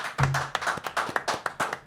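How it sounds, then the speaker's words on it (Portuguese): Scattered hand claps from a small studio audience on a podcast set welcoming a guest, a few uneven, close claps with a brief low hum at the start. "Palmas para Ricardinho!"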